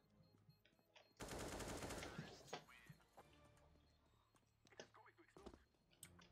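A Mag 7 shotgun fires in the CS:GO video game as a loud, dense burst lasting about a second. It fades into scattered smaller game noises, with voices talking in the background.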